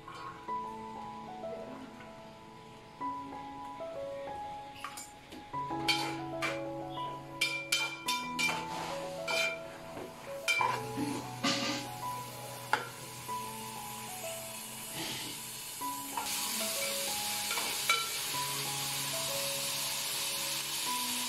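Onion frying in oil in a pan, a soft steady sizzle with scattered stirring clinks and scrapes, quiet and close, rising to a brighter hiss toward the end.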